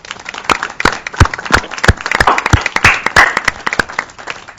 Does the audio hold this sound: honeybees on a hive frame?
no